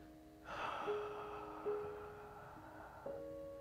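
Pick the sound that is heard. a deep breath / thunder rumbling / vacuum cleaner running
a deep breath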